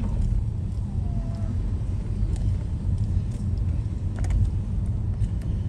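A car driving at night through the Skid Row area of downtown Los Angeles, heard as a steady low cabin rumble of engine and road noise, continuous and fairly loud, with no talking.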